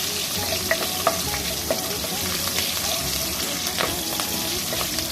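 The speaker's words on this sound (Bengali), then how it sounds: "কাঁচা লঙ্কাটা দিয়ে একটু ভেজে নিই" Green chillies fry in hot oil with cumin for a tempering, giving a steady dense sizzle throughout with a few sharper pops and crackles standing out, close and fairly loud.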